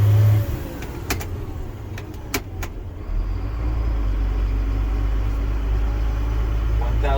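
A Mercedes Unimog U500 expedition truck with an electronic transmission, its engine giving a deep, steady chugging drone that rises and holds, with a few light clicks early on.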